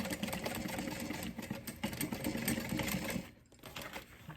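A domestic sewing machine runs steadily while stitching a zipper onto a small fabric key pouch, a continuous close mechanical whir with a brief dip near the end before it resumes.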